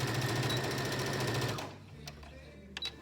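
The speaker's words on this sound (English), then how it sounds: "when I get to the end of this line, I'll back stitch." Sewing machine back stitching along the seam of a fabric pencil bag, a steady close whirring run that stops partway through, followed by a few faint handling clicks.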